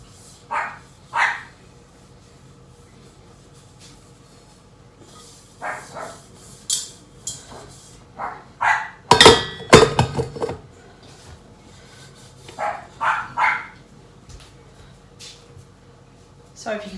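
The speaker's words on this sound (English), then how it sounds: "Sorry if you can hear Luna barking in the background" A dog barks in short bursts, a cluster of loud barks in the middle, amid clattering dishes and household sounds.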